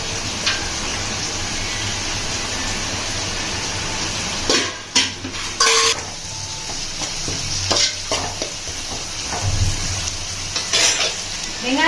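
Two large onions, chopped small, frying in a pan for a chicken gravy, with a steady close sizzle and repeated scraping and clinking of a spoon stirring against the pan.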